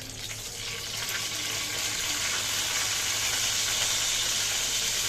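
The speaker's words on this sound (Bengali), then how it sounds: "হ্যাঁ তেল গরম হয়ে গেছে রসুন আর শুকনো লঙ্কাটা দিয়ে দিলাম" Garlic and dried red chili sizzling in hot oil, a steady, hissing fry that holds constant and swells slightly over several seconds with no talking.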